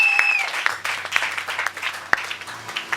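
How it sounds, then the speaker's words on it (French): A church congregation at a Sunday service applauds together in praise, a dense wash of many hands clapping steadily throughout, with a few sharper claps standing out. "Acclamons le roi des rois,"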